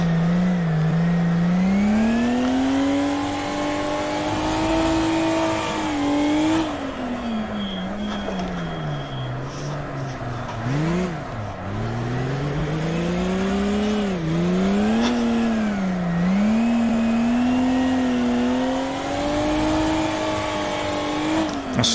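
A drift car's engine revs hard in a VR racing simulator, the pitch climbing and dipping as the throttle is worked through slides; loud and continuous for the whole stretch, with no talking.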